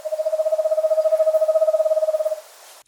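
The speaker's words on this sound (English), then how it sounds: "They also produce a purring trill that lasts 3 to 5 seconds." An eastern screech owl gives a purring trill, a long, even run of rapid pulsed hoots at a steady pitch, clear and close, lasting about two and a half seconds before cutting off.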